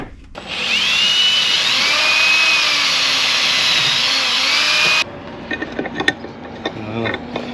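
A power drill drives a screw during boat hull maintenance, whirring steadily and loud for about five seconds, then stopping abruptly and giving way to faint clicks and handling noises.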